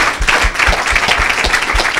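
A church congregation claps and cheers in praise at a worship service, rhythmic loud applause with crowd noise, no spoken words, close and full.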